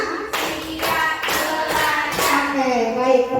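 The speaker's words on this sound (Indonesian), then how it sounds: "Ya, tepuk lima." A classroom group claps in a quick rhythmic pattern, bursts of hand claps separated by short pauses, with voices chanting along throughout.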